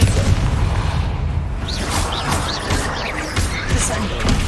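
A Repulsor spell blast goes off in Hogwarts Legacy, a loud booming burst with whooshing layers over a dense, continuous low rumble of game sound lasting several seconds.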